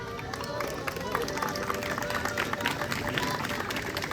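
Audience applause at a university Palestine solidarity event, dense steady clapping from a crowd with cheering and murmuring voices mixed in.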